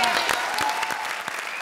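A studio audience at a Kapil Sharma comedy show gives loud, dense, continuous applause throughout this short moment.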